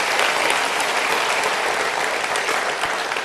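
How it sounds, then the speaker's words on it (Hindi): Steady, dense applause from the audience at a positive-thinking talk, heard close and even throughout with no voices over it. "जोर से तालियां बजाएंगे."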